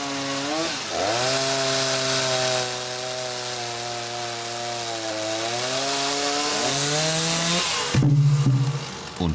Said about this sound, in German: da kommt die Säge